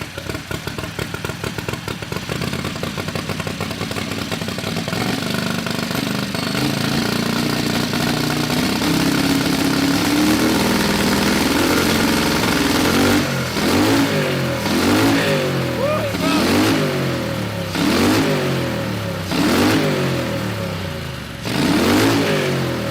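A turbocharged 670 V-twin lawnmower engine runs loudly and close, holding a rough, steady idle before a string of quick, rhythmic revs that rise and fall repeatedly.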